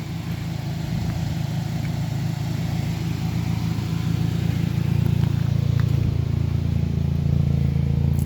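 A 2007 Chevy HHR with the 2.2 engine idles steadily, a constant low mechanical hum that stays even and close throughout with no talking.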